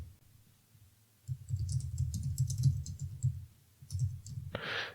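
Quiet, close typing on a computer keyboard while writing code, a rapid run of soft key clicks in bursts with brief pauses, ending on a short louder rustle.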